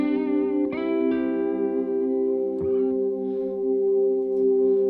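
A sustained synth pad chord, strummed and held with sustain, rings steadily through a guitar effects pedalboard, a few soft transient clicks rising over the smooth, even drone with no talking.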